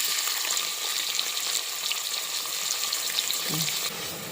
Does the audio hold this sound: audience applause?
no